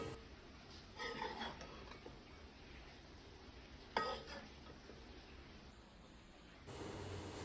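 Chivni fish pieces being stirred with masala in a pan for a fish curry, soft scraping stirs with a faint background sizzle, a couple of louder strokes, no talk.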